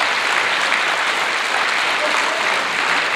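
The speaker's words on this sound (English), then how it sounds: "Can you also give them a nice round of applause?" An awards ceremony audience applauds steadily in a dense, continuous roar of many clapping hands that fills the whole stretch at an even level.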